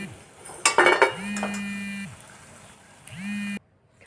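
Fried pakoras are lifted out of a pan into a dish, with a quick burst of metal utensil clinks and scrapes, then a couple of longer metallic scraping drags, close and clear, no talking.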